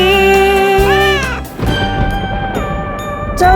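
A cartoon cat meows in a sung, melodic voice over steady music in a Halloween-themed children's song, the pitch bending and sliding up and down several times.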